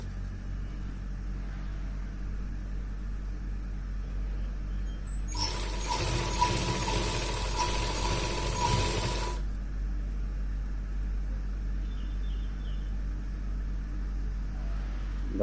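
Sewing machine running a single steady burst of stitching on underwear fabric, lasting about four seconds amid a quiet room hum, fairly close and moderately loud.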